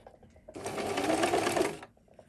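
A sewing machine stitches a trim line in one steady close run of about a second and a half, with quiet talk before and after.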